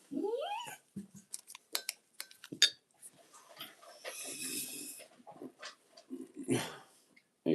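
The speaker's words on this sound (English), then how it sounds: "It's not often that he barks." A pet dog barks several times in short, sharp bursts indoors just after being fed, with light clinks of dishes or cutlery in the room and no speech.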